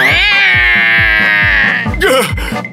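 A cartoon cat's meows ring out in a long, loud, high-pitched wail, then break into shorter yowls over a pulsing musical beat.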